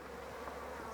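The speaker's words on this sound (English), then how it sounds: "you can see all the bees inside" Honey bees hum in a dense, steady, faint drone inside a hive after a shook swarm.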